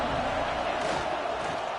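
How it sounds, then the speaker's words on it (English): A stadium crowd roars in College Football 26 during a third-down red-zone play between Rocky Top and TAMU, a steady, dense wall of cheering that holds at full intensity throughout the short burst. "this crowd is at fever pitch"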